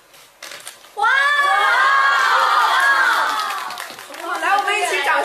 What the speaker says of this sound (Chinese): 来，我们一起掌声鼓励一波